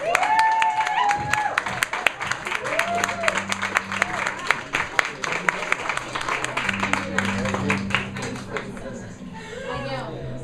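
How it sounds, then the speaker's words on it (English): Audience clapping at a spiritual talk on A Course in Miracles in Detroit, a steady wash of many hands running the full length, with a voice and children's voices talking over it. "Could we really use our hands right now to clap for us?"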